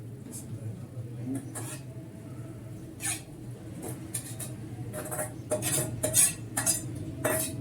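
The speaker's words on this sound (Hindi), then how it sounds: "मुकम्मल तौर पे मैंने दाल को यहाँ पे ऐड कर दिया।" Lentils for daal mash being added to a metal cooking pot, heard as scattered clinks and scrapes of a spoon and pot, close and fairly quiet, with someone speaking softly at times.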